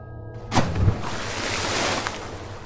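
A splash as a man jumps into deep water: a sudden rush of water half a second in, followed by churning, wave-like wash that fades over two seconds.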